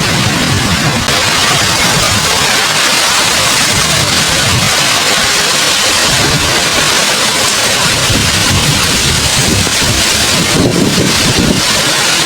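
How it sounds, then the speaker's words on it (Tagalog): Strong, continuous typhoon wind roars and buffets the microphone throughout, loud and unbroken, with a rushing, gusty texture and no voices. "Patuloy pa rin pong bumabayo po ang hangin ng bagyong ulan."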